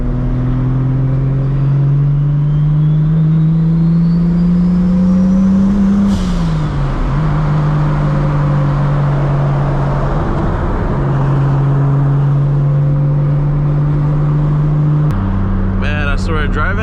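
Tuned MKIV Toyota Supra running over 30 psi of boost in street traffic: a loud, close engine drone that climbs under throttle, dips, then holds steady, with a brief rise near the end and someone talking over it.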